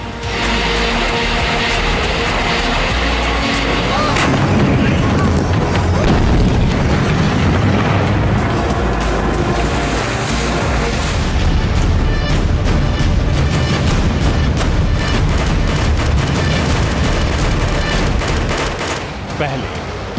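Chinese military weapons fire during a war drill, a dense continuous barrage of booms and rapid gunfire rumbling loudly for the whole stretch, with a voice talking over it.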